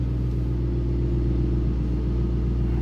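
Supercharged 2008 Ford Mustang Roush 427R with a 5-speed idling, a loud, even low rumble with a steady pulsing throb that holds constant throughout, close and alone.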